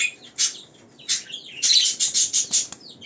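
A budgerigar chick chirps close by in bright, high tweets, a few separate calls at first and then a quick run of five or six chirps in a row.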